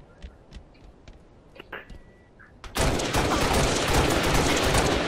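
Video game gunfire in a one-on-one match: a few scattered clicks and light shots, then a sudden loud, dense burst of rapid firing that keeps going to the end.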